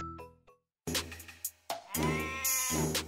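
An old goat bleating in a children's fairy-tale cartoon, a few wavering nasal bleats in short bursts, loud and close, after a brief bell-like tinkle at the start.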